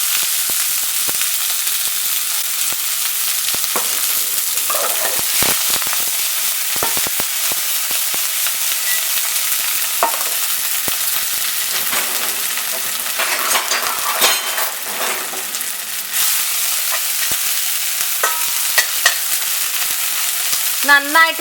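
Fenugreek, dried chillies and crushed spices sizzle loudly in a pan on a low flame, with a steady frying hiss and intermittent scrapes and clinks as they are stirred.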